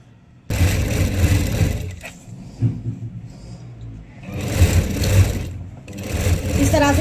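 Electric sewing machine stitching a long fabric strip into a drawstring for a patiala salwar, a close steady rattling hum in long runs with short pauses, and someone talking over it.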